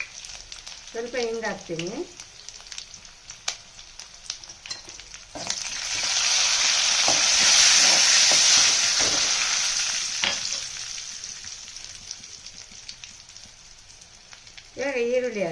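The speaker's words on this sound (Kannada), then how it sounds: "ಜೀರಿಗೆ ಹಾಕಿದ ಮೇಲೆ ಕರಿಬೇವು ಮತ್ತು ಜಜ್ಜಿಟ್ಕೊಂಡ್ರೆ ಬೆಳ್ಳುಳ್ಳಿನ ಹಾಕ್ತೀನಿ" Cumin, curry leaves and crushed garlic hit hot oil with a loud sizzle that swells for several seconds and then fades, alongside scraping stirring sounds. A person speaks briefly at the start and end.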